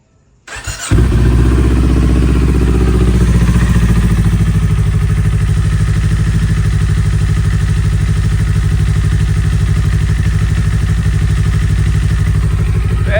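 A Kawasaki Z400 motorcycle engine starts after a brief click and settles into a loud, steady idle during warm-up after an oil change, running continuously up close with a constant rhythmic thrum.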